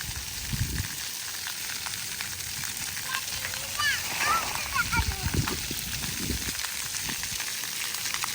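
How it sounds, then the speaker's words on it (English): Water jets and dumping buckets splash at an RV resort splash pad in Hot Springs, Arkansas, a steady wash of spray broken by louder gushing splashes, with a voice talking over it. "That's just the dumping buckets, and it kind of alternates between all the different."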